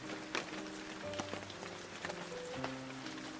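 Light rain patters steadily across a quiet central London street in the early evening, a soft diffuse hiss with scattered drips and faint distant tonal hums, no voices.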